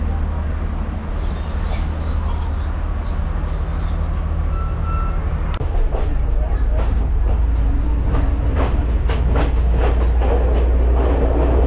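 A train rolling on rails in Sri Lanka rumbles loud and steady from inside a carriage, with sharp metallic clicks and squeals building in rhythm as it gets moving, while someone speaks over it.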